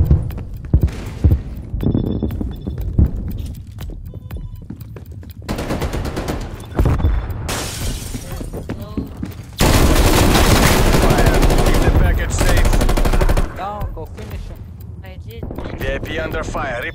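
Heavy gunfire in Call of Duty: Black Ops Cold War, sustained bursts of automatic fire and shots rolling through a loud firefight during a VIP escort mission, with voices calling out over the battle.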